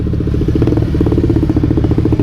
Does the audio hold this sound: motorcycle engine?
yes